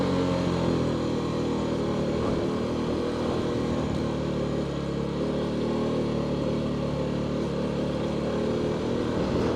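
A CFMOTO 250SR motorcycle engine drones steadily while the rider makes a U-turn, a constant mid-pitched hum with wind noise and no talking.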